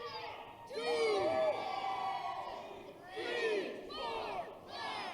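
A wrestling crowd at a fatal four-way match in Thief River Falls cheers and shouts in loud surging waves, with voices rising and falling in close, layered bursts.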